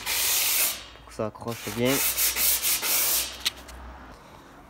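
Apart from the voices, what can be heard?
sanding a repainted car trunk lid with 240-grit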